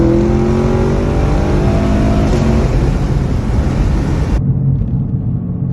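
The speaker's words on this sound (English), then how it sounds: "plus I've always liked Camaros, to be honest, and I love how they sound when they shift" Chevrolet Camaro engine revving hard with rising and falling tones through shifts, a loud close rumble that continues as a deep roar after the higher pitch drops away.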